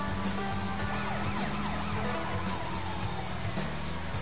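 A police car siren wails steadily in the video game Sleeping Dogs. It sounds loud and continuous over rumbling traffic and engine noise.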